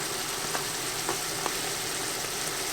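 Green beans with aminos and added butter fry in a pan, giving a dense, even sizzle up close, broken by a few faint stirring taps, with no speech over it.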